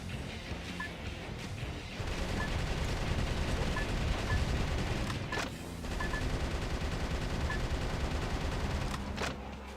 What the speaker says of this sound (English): Idiots outside just sent off many loud fireworks, which then set off the car alarms.